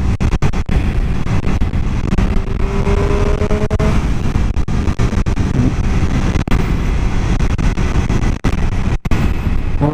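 An MV Agusta F3 675 three-cylinder sport motorcycle engine roars up close, revving hard through repeated quickshifter upshifts with brief cuts between gears, loud and continuous.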